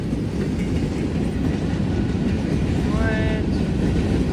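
A freight train rumbles steadily past in Muncie with a dense, continuous low roar and faint rail clatter, a brief metallic squeal rising near the end.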